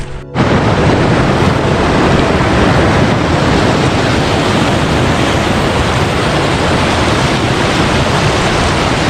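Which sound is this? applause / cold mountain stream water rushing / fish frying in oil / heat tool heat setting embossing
cold mountain stream water rushing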